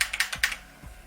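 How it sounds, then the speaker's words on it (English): Rapid clicky keystrokes on a mechanical computer keyboard, about eight crisp taps in quick succession with a couple of heavier thocks, close and alone without talk. "these sorts of keyboards are a lot louder than any sort of membrane, cheaper office style keyboard that you can get"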